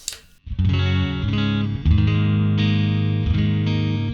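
A dry, distorted electric guitar through a Joyo Cab Box cab simulator plays sustained chords after a brief pause, loud and close with no reverb tail, ringing steadily to the end.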